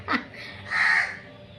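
A crow caws near a house, one sharp call followed by a longer, harsh, nasal caw, close and clear with no voices.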